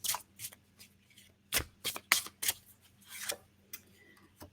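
A deck of tarot cards being shuffled close by, with a series of sharp riffling bursts and softer flicks at an uneven rhythm against a quiet background hum, with no talking.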